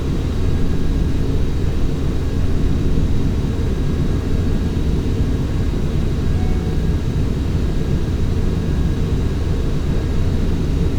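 A Boeing 737 takes off in the FSX flight simulator, its jet engines giving a loud, steady, broadband roar with a low rumble that holds evenly throughout, with no voices.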